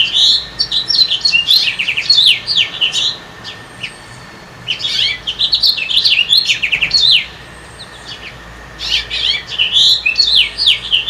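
A male and female house finch sing in bursts of bright, warbling chirps, phrases separated by short pauses, close and clear over a faint steady hum.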